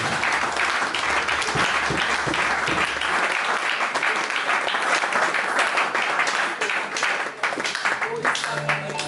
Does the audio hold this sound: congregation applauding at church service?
yes